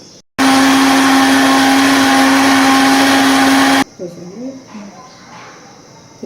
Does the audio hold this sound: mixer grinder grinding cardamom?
yes